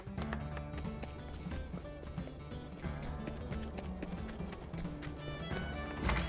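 Horse hooves clip-clop in Octopath Traveler II, a steady rhythmic trot of repeated taps over game music, faint overall, with a snort or whinny near the end.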